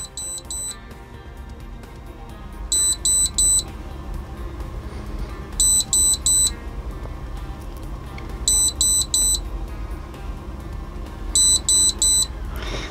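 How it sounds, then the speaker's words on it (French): A small electronic gear device, an AceTech Brighter C or Predator MkII light, sounds repeated bursts of three high-pitched beeps while switching off, five groups in a row spaced evenly apart, clear and close over low background hum. "3 bips 5 fois de suite et là il est éteint"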